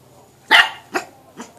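A dog barks three times close by, with a loud sharp first bark followed by two softer ones, alone in a quiet room.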